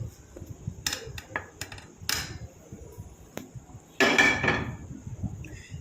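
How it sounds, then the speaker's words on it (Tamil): Homemade powder is tipped from a pan into a small bowl, with sharp metallic clinks and scraping of utensil against pan, a louder rattling scrape near the end, close up and without speech. "இதை அப்படியே எடுத்து நம்ம ஒரு சின்ன பவுலில் கொட்டிடலாம்"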